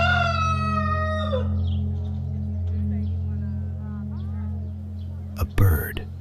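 A rooster crows once, a long harmonic call over a steady low hum, followed by faint murmuring and a few brief rustles near the end.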